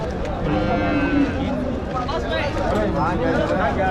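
Native cattle calves at a busy cattle market in Vaniyambadi, with steady crowd murmur and livestock calls blending into a dense, continuous din under people talking nearby.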